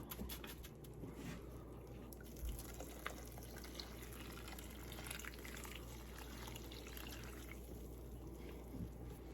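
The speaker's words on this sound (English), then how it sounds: "add 5 cups of hot water" Hot water poured over a freeze-dried sausage, potato and cheese casserole to soak, a faint continuous splashing pour heard up close with no talk.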